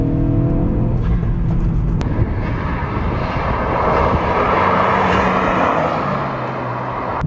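A Ford Focus RS accelerating hard in race mode, its engine a loud, continuous roar that holds steady throughout with no talk over it.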